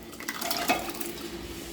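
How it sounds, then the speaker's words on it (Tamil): Cooked dal is poured into a pot of simmering sambar vegetables in a home kitchen, making a soft wet splashing pour with a brief clink partway through. "இந்த பருப்பு சேர்த்துக்கிறேன்."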